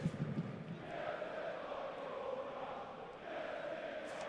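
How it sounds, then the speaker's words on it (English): A Union Berlin vs Frankfurt stadium crowd roars from a distance, a broad sustained wash of cheering and chanting with swelling shouts, fairly faint and steady throughout. "listen to the crowd, absolutely electric"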